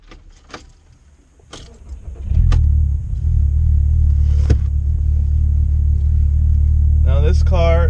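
A Volkswagen Mk5 Jetta's 2.5 liter five-cylinder engine with an automatic transmission cranks after a few clicks, then settles into a loud, steady low idle rumble, with a voice briefly heard near the end.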